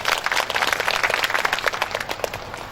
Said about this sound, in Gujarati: એમને એકવાર જોરદાર તાળીઓથી વધાવીએ.